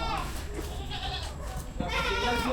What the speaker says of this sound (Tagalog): Maraming kambing.